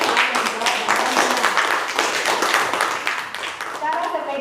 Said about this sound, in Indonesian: Tepuk tangannya sekali lagi untuk Dira.